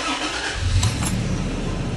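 A Toyota Tacoma TRD pickup truck starts up with a short crank and then settles into a steady loud engine rumble, close by and with no talking.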